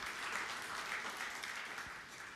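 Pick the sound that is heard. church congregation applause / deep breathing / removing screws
church congregation applause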